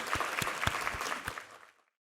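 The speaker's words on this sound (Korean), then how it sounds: "우리 하나님께 감사와 영광의 박수 올려드리겠습니다." A church congregation gives a short round of applause during a Korean worship service. The clapping is moderately quiet and brief, tapers off and ends in silence.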